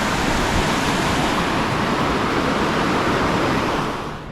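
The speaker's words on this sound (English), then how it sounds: "There's the waterfall." A waterfall in Flåm, Norway, a loud, dense, steady rush of falling water heard close, filling the whole span and easing slightly at the end, with no voices.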